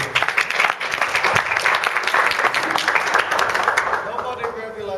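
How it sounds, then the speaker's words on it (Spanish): An audience claps for a volunteer at a martial arts demonstration, brisk dense applause that fades out toward the end while a voice speaks over it. "Un aplauso a Eduardo,"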